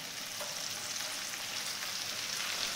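Capsicum pieces and cut carrot frying with onions in a pan, a steady, even sizzle throughout with a faint crackle, close and alone.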